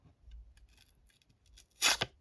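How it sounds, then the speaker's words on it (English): Sharp tomahawk edge slicing through paper: a few faint rustles of the sheet being handled, then a brief crisp cutting rip near the end, close and clear. "this one actually might cut paper"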